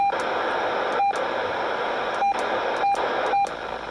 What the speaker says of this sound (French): Alors ça c'est des QRM que j'ai d'habitude ici.